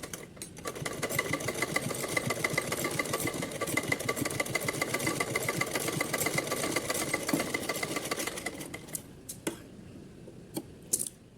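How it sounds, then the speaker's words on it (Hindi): A sewing machine runs steadily for about nine seconds, putting a second line of stitching into a small summer dress made for a Kanha ji idol. The motor whirs with a rapid needle chatter, then several short bursts follow. "अब हम इसको पक्का करते हुए एक सिलाई और लगा लेते हैं।"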